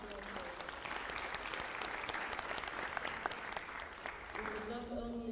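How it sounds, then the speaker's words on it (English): A graduation ceremony audience applauds Professor Mahano at a university spring graduation, a steady wash of many hands clapping from a large hall that tapers near the end as a voice begins to speak. "May I request that we give Professor Mahano a round of applause for that"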